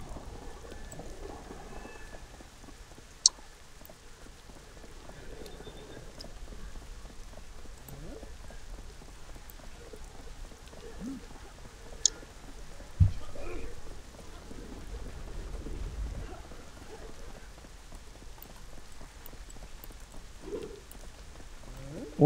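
Steady rain falling in the Black Desert Online game world, a soft continuous hiss with occasional faint low rumbles and a few sharp ticks, fairly quiet throughout.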